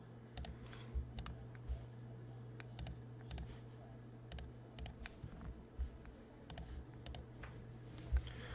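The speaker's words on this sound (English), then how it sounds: "we're going to type our credentials here" Credentials typed on a computer keyboard, a quiet irregular patter of key clicks in short bursts over a low steady electrical hum, no voices.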